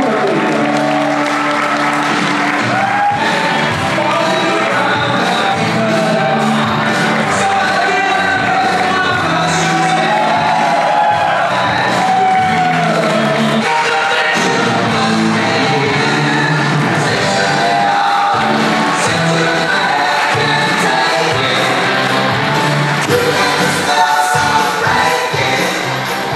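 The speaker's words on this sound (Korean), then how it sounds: "큰 박수 부탁드립니다." Wedding guests give a loud, sustained round of applause with whoops and shouts as the groom enters, a dense, continuous wall of clapping and cheering that fills the hall from start to finish.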